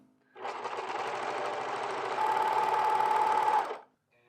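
A sewing machine runs in one steady, fast burst of close stitching for about three seconds while finishing the raw edges of men's pant legs, stopping abruptly, with no talk.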